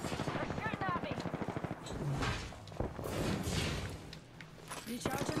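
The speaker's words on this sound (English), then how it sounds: "They're shooting at me." Rapid automatic weapon fire in the video game Apex Legends comes in loud bursts, with players talking over the shooting.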